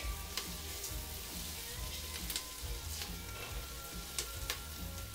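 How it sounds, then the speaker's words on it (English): Garlic sizzles steadily in a hot pan for lasagna while being stirred, a continuous close frying hiss broken by a few sharp ticks and spatters. "I'm going to stir that just so that garlic gets a little aromatic"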